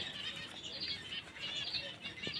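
A pigeon held in the hand struggles and flaps its wings, a close, continuous soft fluttering with no talking.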